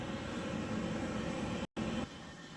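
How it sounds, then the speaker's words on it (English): A military jet taxis on the deck of the aircraft carrier USS Ronald Reagan, its engine roaring loudly and steadily with a brief cut partway through. "Lieutenant DiGennaro taxis the plane into a parking spot and turns it back over to the plane captain."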